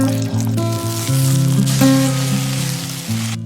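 Eggs fry in a pan for a tomato-and-egg stir-fry, giving a steady, close, fairly loud sizzle that runs throughout, with sustained musical tones playing underneath.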